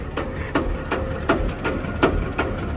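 A ZT180 tractor engine idles steadily at low speed, its low rumble carrying a regular knocking pulse that repeats roughly twice a second with sharp ticking accents, recorded close by with no talk.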